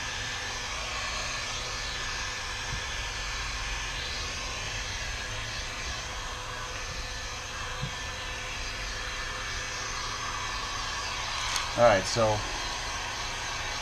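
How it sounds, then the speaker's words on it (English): A heat gun blows a steady, loud airy roar across vinyl wrap on a car trunk, running continuously throughout, with a brief spoken remark near the end. "I'm going to give this a little bit of heat all over."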